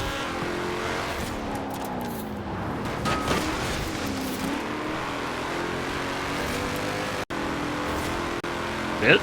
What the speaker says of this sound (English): I thought the MGB sounded good with the V8.